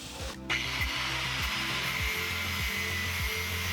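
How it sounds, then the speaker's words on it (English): A power tool cuts a slot into a stuck bolt on a 1986 Kawasaki GPZ1000RX motorcycle, giving a continuous loud whirring, grinding whine with a sharp onset, close and steady with faint rhythmic pulsing, no talk. "Cutting a slot into the bolt allows me to get a flathead on here"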